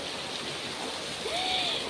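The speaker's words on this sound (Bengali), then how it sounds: "কি জোরে জোরে বৃষ্টির ফোঁটাগুলো পড়ছে।" Heavy raindrops falling outdoors in gusty wind as a storm sets in, a steady broadband patter throughout, close and fairly loud, with a faint whistle-like tone near the end.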